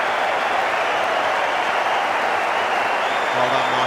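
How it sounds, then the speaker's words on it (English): Cricket crowd at the Gabba applauds Michael Clarke in steady, sustained clapping that fills the stands, with a commentator's voice briefly over it. "Crowd are loving it."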